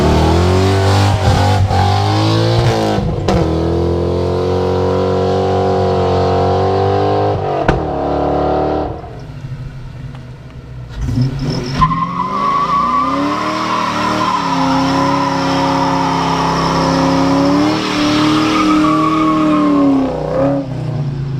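A Coyote-swapped black Foxbody notchback does a burnout, its V8 roaring and revving hard with continuous loud tire squeal, a brief lull midway before the engine climbs again and the squeal resumes, no talking.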